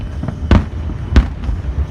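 Fireworks bursting at a 4th of July celebration: two loud booming explosions about half a second apart, then fainter distant pops over a steady outdoor rumble.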